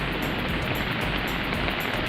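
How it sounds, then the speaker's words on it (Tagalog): Heavy typhoon rain from Goring pours down around a pigeon loft, a loud, unbroken wash of hiss with no talking over it. "Malakas na yung ulan sa loft."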